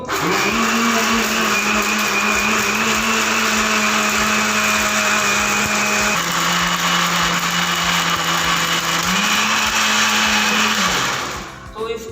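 Electric blender blending pomegranate juice: a loud, continuous high-pitched motor whine that shifts pitch midway and runs for about eleven seconds before stopping, close up and alone.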